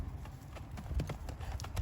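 Horse hooves thud on turf during cross country schooling near a small ditch obstacle, a quick uneven clip-clop rhythm of a horse moving close by, with faint background noise.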